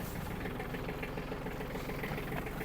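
Small Iseki TG-29 Japanese mini tractor diesel engine idling steadily, a continuous low rumbling chug held at one level throughout with no talk.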